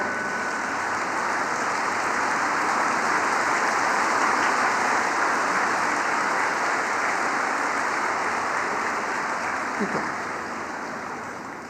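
Sustained applause from a standing audience at an inaugural session welcoming the Chief Justice of India, a steady broad wash of clapping for over ten seconds that fades slightly near the end.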